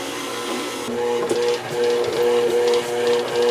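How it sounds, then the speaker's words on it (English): A stand mixer kneads whole wheat bread dough with a steady whirring motor hum and rhythmic thumping slaps, the drone rising midway and continuing throughout without talk. "I'm just gonna get that started to mix and then we'll add more flour to make a nice dough that pulls away from the thing"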